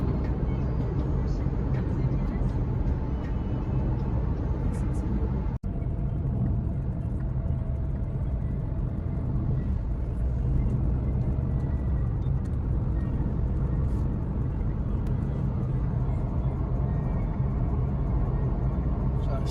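A steady, loud low rumble of a car cruising along a highway, with continuous road and engine noise and one brief click partway through.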